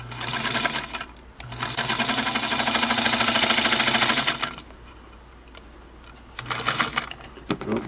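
A Singer 221 Featherweight sewing machine stitching: a loud, rapid mechanical whirring run of about three seconds, then a pause with faint clicks, followed by a second shorter burst of stitching, close up.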